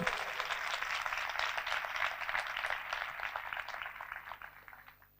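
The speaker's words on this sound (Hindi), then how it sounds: "उसके लिए जोरदार तालियां बजाइए" Dense, steady applause from a church congregation, many hands clapping at once, holding strong before fading out in the final second.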